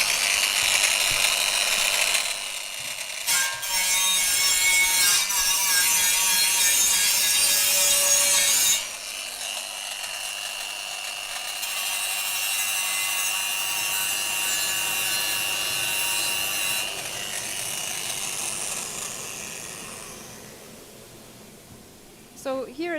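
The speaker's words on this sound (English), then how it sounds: "now we're gonna deburr an aluminium part there." A Tyrolit quick-change disc on a grinder deburrs an aluminium part, giving a steady loud abrasive rasp with a high whining edge that shifts tone midway, then fades near the end.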